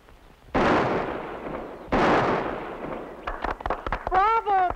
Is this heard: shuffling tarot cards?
no